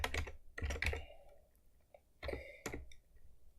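Keys tapped on a computer keyboard for a Control+Space shortcut in Eclipse, several quick clicks in two short bursts separated by a pause, near and fairly quiet.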